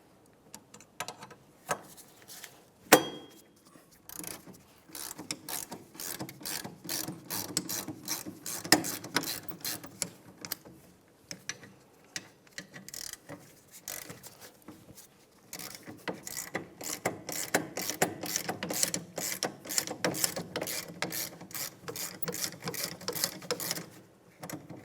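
A ratchet turns out the 14mm rear caliper bracket bolts on a 2009-2010 Pontiac Vibe, giving long runs of rapid, fairly soft clicking broken by short pauses.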